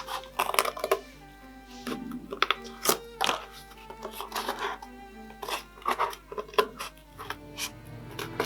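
Scissors snip through Halloween mask material in short, irregular cuts, close and fairly quiet, with some handling rustle between strokes.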